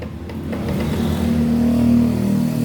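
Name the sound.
Honda Beat FI scooter engine starting and dying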